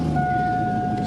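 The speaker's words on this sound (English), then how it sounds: "Exhaust is kind of loud because of that flex pipe." A car engine idles with a loud, raspy exhaust escaping from a cut flex pipe, a steady close rumble with a whining tone running through it.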